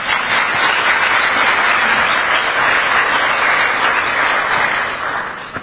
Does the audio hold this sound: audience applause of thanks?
yes